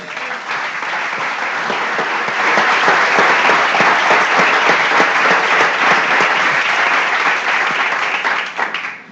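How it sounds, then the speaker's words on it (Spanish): A church congregation breaks into sustained applause, a dense, loud wash of many hands clapping that swells after a couple of seconds, stays full and even, then tapers briefly at the close. "Démosle un aplauso al Señor."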